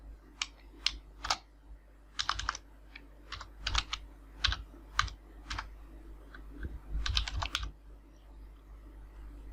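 A computer keyboard clicks close by as an email address is typed in bursts of quick keystrokes. Short pauses separate the bursts over a faint steady hum, and no one speaks.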